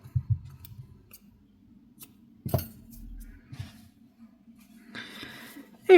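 Scissors snip through strands of yarn hair on a crocheted amigurumi doll, giving a few short, close cuts with soft handling noise between them.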